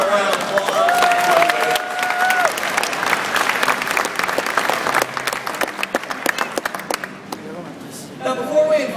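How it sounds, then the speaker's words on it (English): Loud, sustained crowd applause and cheering at a beluga whale show at Shedd Aquarium, dense clapping close and continuous for several seconds, with a high whistle-like tone and a voice heard early on. "Ladies and gentlemen, how about a round of applause?"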